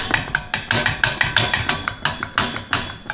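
Wobbly leg of a welded metal obstacle knocking against the ground, a rapid series of sharp metallic clanks in an uneven rhythm, close and loud with no talking.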